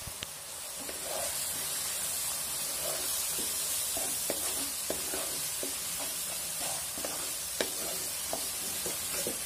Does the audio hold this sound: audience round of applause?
no